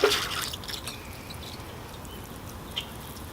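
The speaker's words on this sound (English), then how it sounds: "So here I go with the water now." Water trickles and drips onto freshly repotted bonsai trees in an outdoor forest planting, a soft, steady patter with a brief splash at the start.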